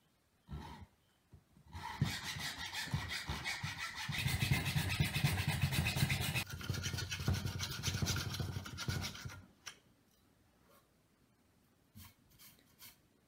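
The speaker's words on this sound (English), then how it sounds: "now we're going to cut right down the middle with the handsaw" A handsaw rasps through the middle of a piece of wood in quick back-and-forth strokes for several seconds, close and fairly loud, ending with a few light taps.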